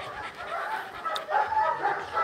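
A small dog yips and barks in short, excited bursts, close by, with a person talking over it.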